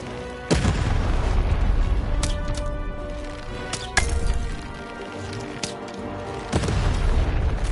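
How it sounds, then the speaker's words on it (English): Cannon shots in the video game Lost in Random: several heavy booming blasts at irregular intervals, each a sharp loud crack with a rumbling tail over a steady game-music backdrop. "Shoot the button to fire the cannon."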